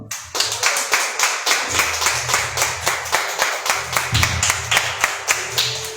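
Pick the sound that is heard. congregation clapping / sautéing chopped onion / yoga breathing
congregation clapping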